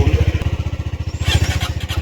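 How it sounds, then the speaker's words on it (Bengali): A motorcycle engine idles close by in a cold mountain pass in East Sikkim, its fast, even exhaust pulses thumping steadily throughout after a cold start, with a slight rise in pitch toward the end. "তো বাইকটা কোল্ড স্টার্ট একবার দিয়ে দেখি কোল্ড স্টার্ট হচ্ছে কিনা।"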